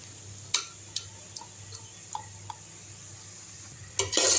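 A ground spice paste for drumstick kurma is stirred and sautéed in a pan over low heat. A spoon taps and scrapes the pan in scattered light clicks over a faint steady background, with a louder clatter at the end.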